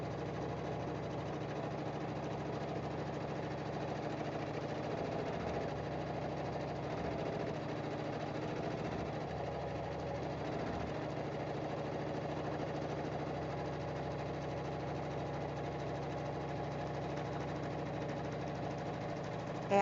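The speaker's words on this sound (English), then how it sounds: "it's just doing a heavier stitch because it's going to be raw edge applique." An embroidery machine stitching a heavy raw-edge applique on a tooth fairy pillow, a fast, even mechanical hum and patter that runs steadily and close with no talking.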